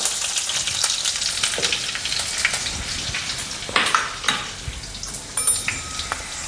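Curry leaves and asafoetida sizzle in hot oil, a steady crackling hiss broken by louder spitting pops near the end.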